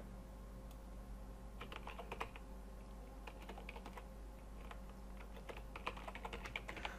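An email address is typed on a computer keyboard, quiet bursts of rapid key clicks with short pauses between them over a low steady hum.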